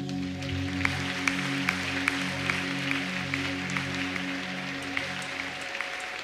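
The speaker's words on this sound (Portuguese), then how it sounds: "Vamos aplaudir Ele novamente." Congregation clapping during a Portuguese-language morning church service, regular hand claps over sustained musical tones, moderately loud and continuing throughout.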